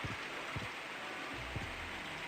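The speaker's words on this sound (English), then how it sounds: "I like the rain noise here." Rain falling in Castlevania: Symphony of the Night, a steady faint hiss of downpour with occasional soft low thuds, continuous and alone.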